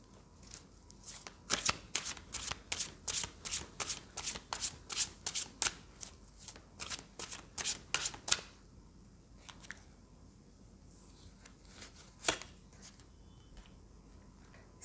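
Tarot cards riffle-shuffled close by in rapid repeated bursts for about eight seconds, then a few scattered softer riffles and one last sharp burst, with no talking.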